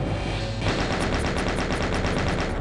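Chain gun in the video game Doom fires a rapid, evenly spaced burst of loud gunshots, starting just after half a second and continuing steadily to the end.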